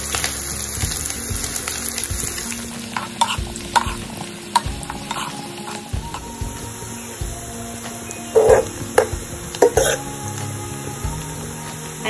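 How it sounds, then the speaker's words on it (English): Finely chopped onion frying with golden-browned garlic in a pan, a steady sizzle with repeated scraping and stirring knocks of a spoon against the pan, close up, with no talking. "After the garlic turn into golden brown, I'll be adding onion."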